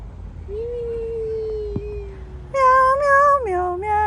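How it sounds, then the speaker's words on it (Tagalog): A cat meows on a street in Wellington, New Zealand: one long drawn-out meow, then a louder, higher burst of repeated, wavering meows close by. "Meow, meow, meow, meow."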